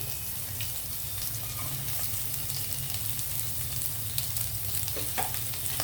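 Whole spices for a kabuli chana pulao fry in hot oil and ghee with a steady dense sizzle, and sharp crackles and pops break through now and then without any talking.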